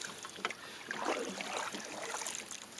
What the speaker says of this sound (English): I enjoy paddling this way.